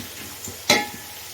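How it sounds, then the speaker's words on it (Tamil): Onions sauté toward brown for a mutton biryani, a low sizzle under one sharp scrape of a utensil against the pan. "வெங்காயம் வந்து நல்லா ப்ரௌனாக வதங்கணும்"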